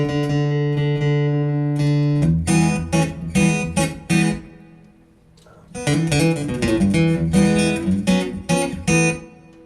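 Acoustic guitar played through a Fishman pickup on its Dreadnought setting, bright strummed chords and picked notes, close and loud, with a brief quieter gap partway through.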